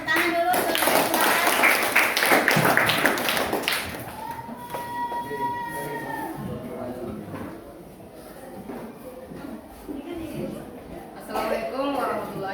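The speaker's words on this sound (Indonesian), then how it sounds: "Iya, tepuk tangan dulu." Students in a classroom applaud a classmate, a few seconds of lively clapping that ends abruptly, followed by quieter room sounds and a voice speaking.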